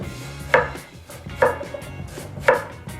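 A knife chops through an onion on a board in three crisp, close strikes spaced about a second apart, with quiet pauses in between.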